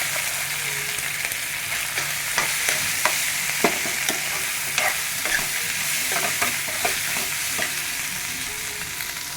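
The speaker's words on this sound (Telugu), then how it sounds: "ఇప్పుడు ఈ పప్పు దీంట్లో వేసుకుని తిప్పుకోవడము." Lentils are stirred into a pan of fried tempering for pappu telagapindi, a spoon scraping in repeated strokes over a constant loud sizzle.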